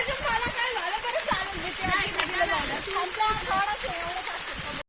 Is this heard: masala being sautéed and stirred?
no